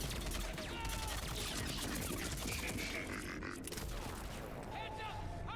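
Gunfire in Mass Effect 3 crackles as a dense, continuous fusillade of shots and impacts, loud and chaotic throughout, mixed with grunts and battle noise.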